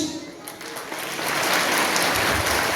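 A festival crowd applauds at the Kurucuova Keşkek Festival in Muğla, a dense, rain-like patter of clapping that swells and stays loud.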